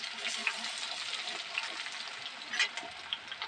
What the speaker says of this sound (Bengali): তেল গরম হয়ে গেছে, তেলের মধ্যে আমি 1 বাটি পেঁয়াজ ছেড়ে দেবো।